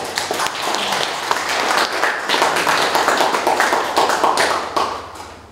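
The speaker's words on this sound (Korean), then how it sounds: "원장님을 큰 박수로 자리에 모시겠습니다." A lecture-hall audience at an academic forum gives loud, sustained applause to welcome a speaker, with crisp dense clapping that lasts several seconds before fading.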